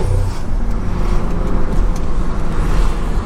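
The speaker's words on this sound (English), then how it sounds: "The car sounds so good though when it doesn't pop." A Stage 2 BMW with a turbo engine drones steadily in a loud, continuous low rumble from inside the car, holding an even note with no pops or crackles.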